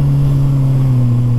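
A motorcycle carrying two riders holds a wheelie on steady throttle, its engine a loud, close, unbroken low drone with a fixed pitch throughout.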